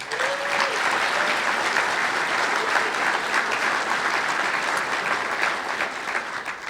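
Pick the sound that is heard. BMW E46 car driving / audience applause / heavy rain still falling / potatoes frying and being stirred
audience applause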